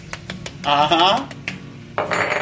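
Spoon scraping and clinking against a pot while stirring vegan moussaka filling with spices, a run of close metallic knocks and scrapes with short pauses.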